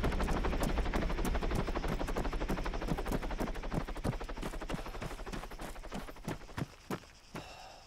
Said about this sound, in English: Why is that helicopter floating?